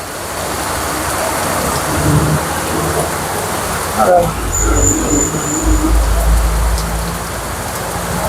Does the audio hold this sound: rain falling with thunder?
yes